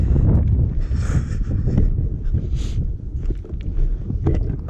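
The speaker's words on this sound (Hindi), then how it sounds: "बहुत तेज़ है जी हवा, बहुत ठंड है यहाँ पे इस टाइम" Strong, cold wind blowing at the China border on the Silk Road, heard as a loud, continuous low roar of gusts buffeting the microphone, with no voices.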